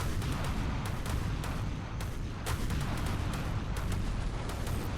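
Heavy naval turret gunfire in the ShipCrafter video game, a dense, continuous barrage of booming shots and impacts with sharp cracks layered over a rumbling roar throughout.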